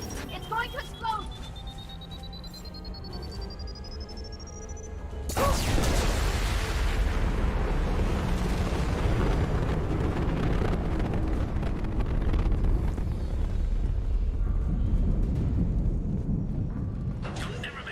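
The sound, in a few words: explosion in the video game Mass Effect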